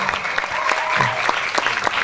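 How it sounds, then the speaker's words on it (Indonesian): An audience at a debate breaks into lively clapping, individual hand claps clearly separated within the crowd's applause, with a few voices murmuring underneath. "Tepuk tangannya dong."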